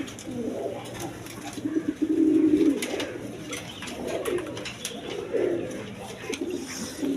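Farm-raised pigeons coo in soft, repeated low phrases nearby, with a faint voice and light background noise around them.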